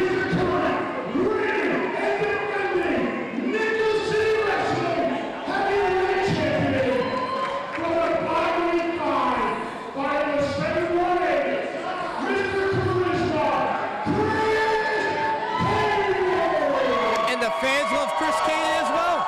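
Wrestling crowd chanting and cheering loudly throughout a triple-threat match, a dense roar of many voices with rhythmic rising chant phrases and occasional whoops, close and continuous.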